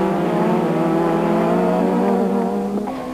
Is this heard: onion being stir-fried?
no